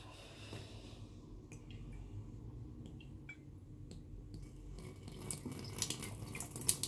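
Hot water is poured out of a shaving scuttle, with soft close drips and trickles, quiet at first and building to a fuller splashing pour near the end.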